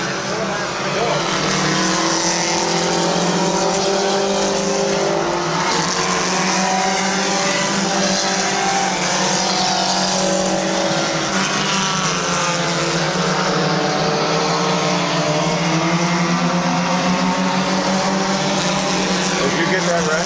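Race cars at Midvale Speedway roar continuously around the oval, engines droning loud and steady throughout, with a crowd or announcer voice murmuring underneath.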